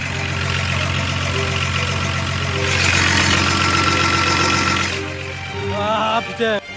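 A Volvo car engine idles roughly after a restart with a steady low rumble and uneven knocking, rising briefly in intensity midway before settling; close and loud, no talking.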